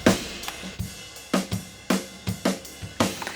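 Processed drum overhead microphones carry a cleaner-sounding kit: sharp snare cracks and kick thumps with shimmering cymbals, close and loud in a steady beat, no talking.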